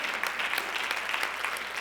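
An audience at a functional aging summit claps steadily, a dense, even wash of applause with no voices on top.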